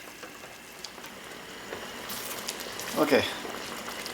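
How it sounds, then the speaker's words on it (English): Black and red currant jam boiling hard on a stove, soft bubbling and popping that grows busier toward the end, with a brief spoken word over it. "Now look how that's boiling."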